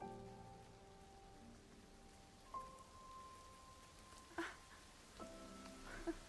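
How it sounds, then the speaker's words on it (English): Rain falls in the video game Jusant as a soft, steady hiss with a few faint droplet taps, quiet beneath sustained musical tones. "Finally, the rain is now here."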